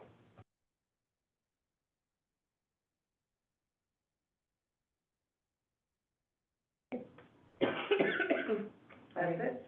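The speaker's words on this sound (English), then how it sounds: "Sorry for coughing all day" Someone in a village board meeting room coughs and clears their throat in a rough burst near the end, after a long stretch of silence.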